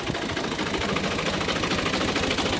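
A 2010 New Holland Al Ghazi tractor's diesel engine idles close by, a steady, loud, rumbling throb with a knocking pulse that never lets up.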